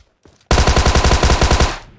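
A loud, close burst of rapid automatic gunfire from a shooter game, about a dozen evenly spaced shots in just over a second, preceded by a faint click and followed by a short fading tail.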